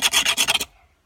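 A rock is rubbed against another surface to sharpen it, giving several quick, gritty rasping strokes close by that stop abruptly after well under a second, with no voices.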